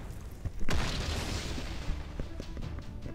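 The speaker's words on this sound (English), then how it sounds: "I guess I'm just gonna use the frontal cannons." Frontal cannons fire in the naval combat video game Naval Frontline, giving a loud booming blast with a sustained rumbling roll that fades slowly, followed by a few faint secondary pops.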